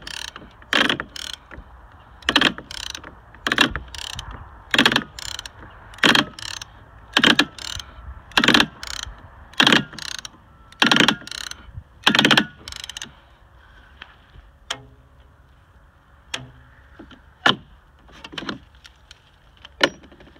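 A ratchet tightens Kubinec strapping around stone slabs: loud, close bursts of rapid clicking repeat in a steady pumping rhythm, then thin out into slower, sparser single clicks.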